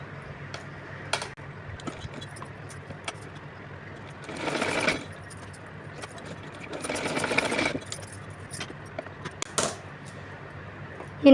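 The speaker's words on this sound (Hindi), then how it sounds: "तो चलिए इस तरह से मैं इस पर सिलाई लगा लेती हूँ।" Sewing machine stitching a small dress for a size 5-6 Kanha ji doll, a steady whirring mechanism in two short bursts of a few seconds each, separated by quiet handling clicks and taps, fairly close.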